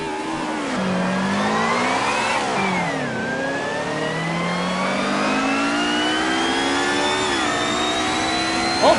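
A race car engine in Assetto Corsa, the 2014 racing game, revs and winds up with a strong gear whine, pitch climbing and dropping through several gear changes, loud and continuous with no talk.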